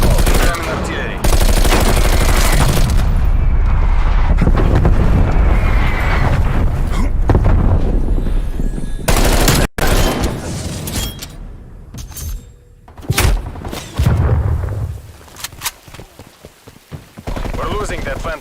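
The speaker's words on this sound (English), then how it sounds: "Artillery targeting detected." Incoming artillery fire in the video game Saints Row: loud, dense rolling barrages of blasts and rapid gunfire fill the scene, with sharp cracks and dropouts late on, over game announcer voice lines.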